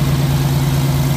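A 2018 Peterbilt truck's Paccar MX13 diesel engine idles during a regen, a steady low drone with a strong even hum, close and loud with no talk.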